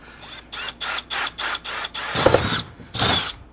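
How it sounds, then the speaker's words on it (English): A power drill whirs in a series of short, even bursts, then bites harder and louder into material for the last two pulses, close by, drilling a hole through a small fishing boat's deck after carpet was cut away. "I can get my drill bit in there and drill my hole."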